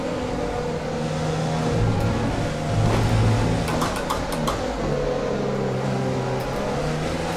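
A race car engine in a racing video game revs and strains through gear changes, a steady engine drone rising and falling with brief sharp mechanical ticks, close and dominant with no voices.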